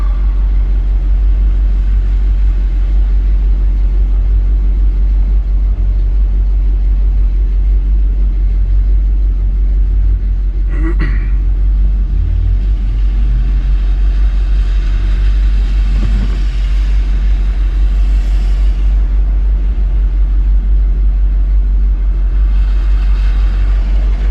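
A 1984 Chevy truck's engine gives a loud, steady low rumble from inside the cab, with a slight swell and a few faint knocks as it idles and pulls away in traffic, and no voices.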